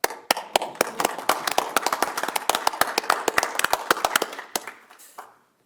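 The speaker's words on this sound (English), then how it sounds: "We can clap" Sparse applause from a small audience at a Tonganoxie city council meeting: a few people clap distinct, separate claps for about five seconds before it fades out.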